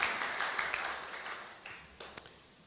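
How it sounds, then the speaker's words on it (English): An audience at a partnership celebration event gives a round of hand clapping that sounds faint and distant and gradually fades, with a few sharper claps standing out. "I think that deserves a hand clap."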